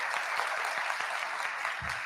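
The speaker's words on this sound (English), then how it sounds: "Please, a round of applause for Gurudev for joining us today." A crowd at a Hindu temple event gives a steady, full round of applause, the dense clapping holding at an even level throughout.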